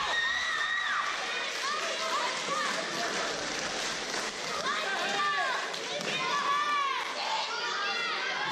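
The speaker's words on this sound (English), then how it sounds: "Crowd feeling it." A wrestling crowd cheers, whistles and shouts throughout a live pro wrestling show, loud and sustained, while a commentator talks over the noise.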